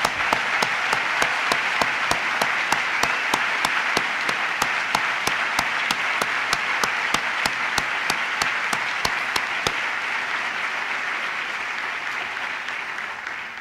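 An audience applauding at a talk, sustained dense clapping at a steady level with a few sharp claps standing out, slowly thinning toward the end.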